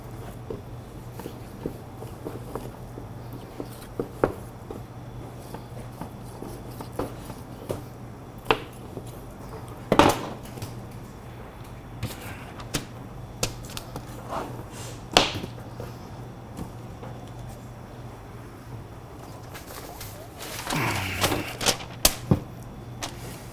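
A butcher cutting French veal chops: a series of sharp, scattered chopping and cracking knocks at an irregular rhythm, close and fairly quiet against a steady low hum.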